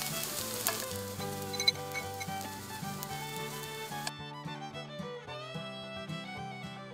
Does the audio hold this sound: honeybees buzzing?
no